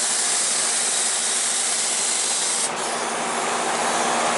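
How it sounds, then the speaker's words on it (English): A spray gun applies gelcoat to a new jet boat hull, giving a steady, loud, continuous hiss throughout with no break and no talking. "I'm just gonna keep spraying."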